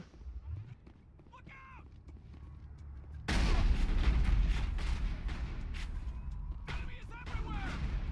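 Gunfire in the Mass Effect video game, with a loud, sustained burst of shooting and impacts that erupts partway through and carries on under a voice talking.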